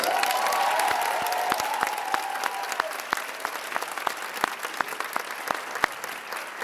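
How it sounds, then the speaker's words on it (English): Applause from an audience at a Women of Westchester dialogue event fills the room, a dense steady clapping with scattered sharp individual claps, fading slightly toward the end. "they deserve a round of applause now"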